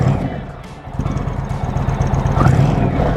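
A deep, throbbing Indian Springfield Limited motorcycle's Thunder Stroke engine idles and revs up close through dual exhausts, its heavy low rumble growing louder toward the end, with a voice talking over it.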